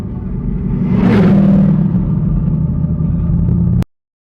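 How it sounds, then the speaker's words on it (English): A Chevrolet Camaro drives past close by, its engine rumble swelling to a loud peak and then holding steady before the recording cuts off abruptly. "What's coming up here? Camaro?"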